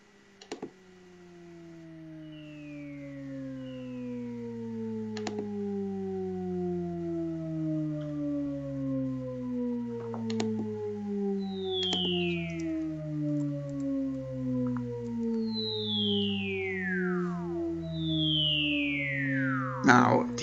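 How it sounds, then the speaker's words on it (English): Shepard tones: a stack of layered, stepping tones that seem to fall endlessly in pitch, joined by chirp-like sweeps and brief clicks, steady and fairly loud throughout. "Now, these tones, falling tones, are called shepherd's tones"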